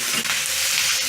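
Capsicum, tomato and ginger-garlic paste sauté in a pan, giving a close, steady sizzle with soft stirring scrapes, alone and without speech.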